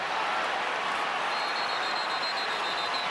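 A football stadium crowd at a Florida State versus Clemson college game roars in a steady, loud, wide wash of cheering and applause that holds at an even level from start to finish.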